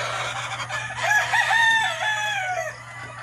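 Airwolf chickens in a stone-floored temporary holding area crow and cluck close by, a rooster's drawn-out crow rising and falling over about two seconds above steady farmyard hum, with no one talking.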